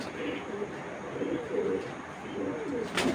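Pigeons coo softly in a loft, including a female racing pigeon, their low repeated calls steady through the clip with a faint background hum.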